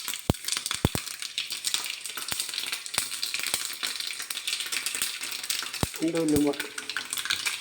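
Mustard seeds crackle and sizzle in hot oil during tempering for puli inji, a tamarind-ginger relish: steady dense frying hiss with sharp scattered pops, close and fairly loud, with a brief low utensil clatter near the end.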